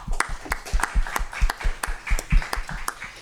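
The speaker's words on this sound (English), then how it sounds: "Let's give our young ladies a round of applause for this wonderful recognition." A small group at a school governing board meeting claps for student award recipients, with a handful of distinct, fairly close claps in an uneven rhythm.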